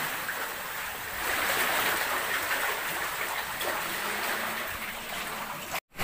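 Strong sea waves surge inside an undersea cave, making a continuous, loud, roaring wash of water that swells slightly in the middle and cuts out briefly near the end.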